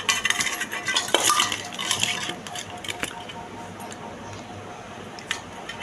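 Raw mango pieces tossed and mixed with salt and turmeric in a bowl, with clattering utensil and dish knocks that are busier at first, then fade to sparse clicks.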